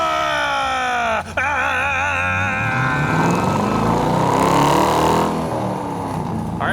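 A 2002 Chevrolet Corvette Z06 engine runs loud and close, its revs climbing and shifting after a brief dip, with a strong, continuous exhaust drone.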